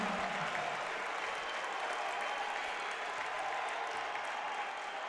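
A sold-out basketball arena of about 5,000 fans roars steadily after a made three-pointer, a dense, sustained wash of cheering and applause with no break.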